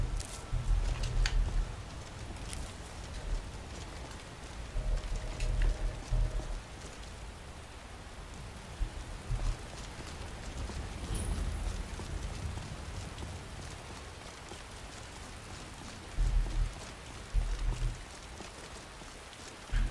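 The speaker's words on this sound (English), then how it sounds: "Apparently it's gonna rain." Steady rain falls in Skyrim Special Edition, a soft continuous patter with low rumbling swells at intervals, heard alone with no voices.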